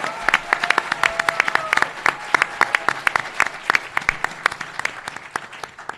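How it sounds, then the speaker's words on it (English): An audience at a law school moot court competition final gives another round of applause, crisp individual claps clearly separated, steady and moderately close throughout. "So let's give one more round of applause."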